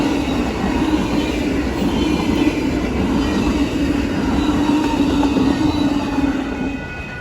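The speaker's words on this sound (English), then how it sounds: "So yeah, there's our eastbound Amtrak." An eastbound Amtrak passenger train passing close by, a loud sustained rumble of wheels on rails with faint clicking and squeal, steady and then easing off at the end.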